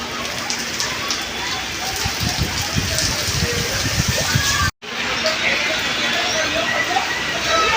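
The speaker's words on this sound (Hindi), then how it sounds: "बाहर मौसम बहुत अच्छा हो रहा है, बारिश हो रही है।" Rain falling outside, a dense, steady patter and hiss heard close by, briefly cut off by a short silent gap before resuming just as strong.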